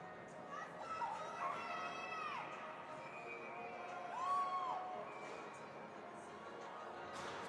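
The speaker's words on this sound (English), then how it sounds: "Some fans cheering for Connor Houlihan." Hockey fans cheering at a college ice hockey game in an arena, a distant, faint crowd with scattered whoops and shouts rising and falling over a steady rink murmur.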